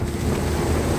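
Heavy rain and rushing air roar steadily around a car driving along a forest road on a trip to Sringeri, a dense, continuous wash of noise with no gaps and no voices.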